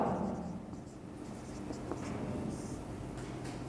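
A pen or chalk writes on a surface with a steady, close scratching rasp that continues throughout without pauses.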